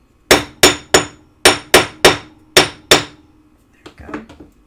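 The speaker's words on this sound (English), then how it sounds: "Just a tiny little bit of hammering." Small wire pieces are hammered flat with seven sharp, ringing metallic strikes in an uneven rhythm, each decaying quickly, followed by a few softer, lighter taps.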